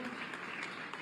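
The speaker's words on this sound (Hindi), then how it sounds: "जोरदार तालियां" Loud crowd applause at a political rally, a short burst of dense, continuous clapping at steady volume.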